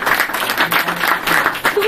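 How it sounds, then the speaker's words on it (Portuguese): An audience at a talk breaks into dense, sustained applause, with many hands clapping loudly and continuously for the whole stretch. "Palmas."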